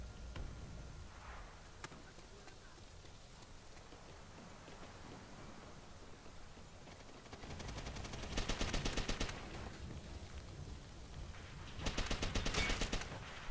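Bursts of automatic gunfire from the video game World at War, two dense volleys a few seconds apart over a steady low background hiss, fairly loud and with no talking.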